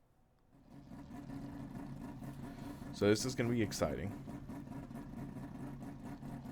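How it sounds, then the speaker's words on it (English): A quad-rotor racing car engine in the Assetto Corsa racing game idles with a steady, buzzing drone, then briefly blips and revs higher before settling back, under someone talking. "Oh, gotta love that quad rotor sound,"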